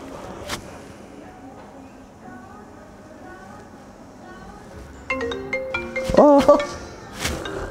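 A mobile phone ringtone plays in the latter half, a melodic, stepped tone pattern rising above a quiet street or indoor background after a few seconds of near silence.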